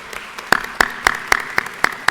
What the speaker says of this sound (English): So I want to give them a loud round of applause